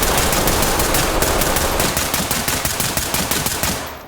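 Automatic rifle gunfire in the tactical shooter Ready or Not during a raid on a drug lab, loud rapid bursts of shots running continuously through the clip and tapering into sharper separate cracks near the end.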